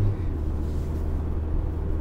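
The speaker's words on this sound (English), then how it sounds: "Sorry, I'm driving" A car driving at steady speed, with a continuous low engine and road rumble holding even throughout, no talk over it.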